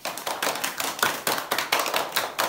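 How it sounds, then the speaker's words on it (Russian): Children at a kindergarten Winter Olympics-themed lesson clap their hands in a quick, fairly even rhythm of about a dozen crisp claps, close and loud, with no talking. "Давайте похлопаем друг друга."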